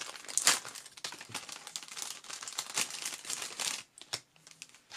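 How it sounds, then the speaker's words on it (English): Crinkly sheets of stickers being handled and shuffled close by, giving soft rustling and crackling bursts with short pauses and no talk. "These are stickers."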